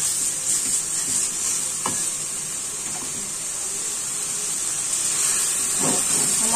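Fresh tomatoes frying in a karahi give a steady hiss and sizzle, with occasional soft stirring scrapes, close and continuous, with no talk.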